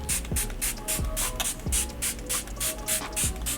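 A bottle of Smashbox Photo Finish Primer Water mists onto a face in a rapid series of about a dozen short, sharp pump sprays, close and crisp, with a faint clicking of the pump between bursts.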